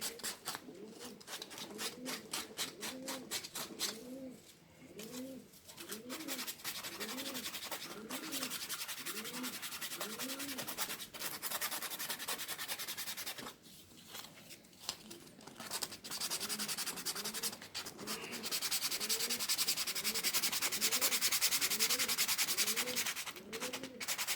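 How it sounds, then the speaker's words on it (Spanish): Repeated rhythmic rubbing strokes of sandpaper on the edges of a bicycle inner tube around a puncture, close and fairly loud, in a steady run of back-and-forth passes with a brief pause midway. "Yo lijaría un poco más los bordes, siempre por los bordes son los que suelen quedar menos bien pegados"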